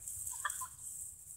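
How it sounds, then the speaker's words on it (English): Brown leghorn chickens give a few faint, brief clucks near the middle, heard alone against a steady background hiss. "I know that these are brown leghorns"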